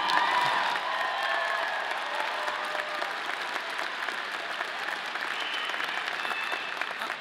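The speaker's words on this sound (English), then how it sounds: "it's okay to clap now." Audience at a Colorado State University Warner College of Natural Resources graduation ceremony applauds steadily, a dense sustained clapping that fills the hall with a few faint cheers mixed in.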